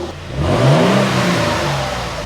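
2024 Toyota Tundra with a slip-on exhaust, engine cold, revs once in a short, moderately loud rise from idle, then settles into a steady mid-pitched drone, close by.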